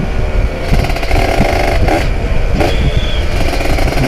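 A Kawasaki Ninja ZX150 motorcycle engine revs loudly and close, a raspy two-stroke buzz with sharp throttle blips and rising surges throughout.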